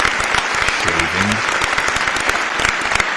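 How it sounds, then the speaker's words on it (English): Loud, continuous applause from a small live audience, dense clapping throughout with a few sharper claps near the mic and a brief voice murmuring under it early on. "Round of applause, my man."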